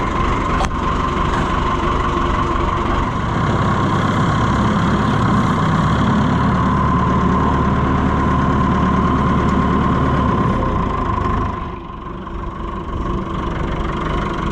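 A loader tractor engine idles steadily and loudly right after starting, a continuous low rumble with a slight knocking character that dips briefly near the end before settling back into its even run.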